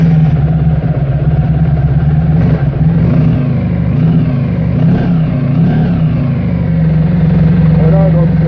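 A Honda ST 1100 Pan European motorcycle, left standing for a month, starts and settles into a loud, steady idle close by while someone talks over it.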